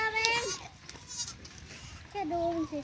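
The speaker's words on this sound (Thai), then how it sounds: "ลูกแพะเพียบเลยนะครับ ช่วงนี้" Baby goats on a farm in winter bleat a few times, thin and wavering, with one cry at the start and another near the end, over people talking quietly.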